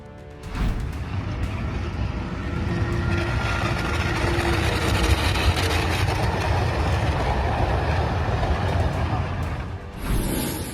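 A train rolls along a railway track with a loud, sustained rumble and rattling that holds steady for about ten seconds, joined by scattered crackling and a brief high squeal near the end.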